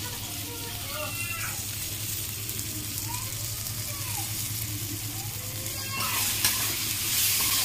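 Paneer masala frying in a pan as it is stirred, with a steady sizzle throughout and occasional scraping strokes, growing slightly louder toward the end.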